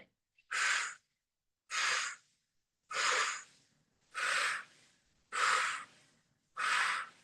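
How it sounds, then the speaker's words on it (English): Six strong, evenly spaced puffy out-breaths during a pelvic floor and posture exercise session, each a breathy burst of about half a second with short silent gaps between, close and alone. "we're going to be breathing out with a puffy breath, breathing in through the back of the nostrils"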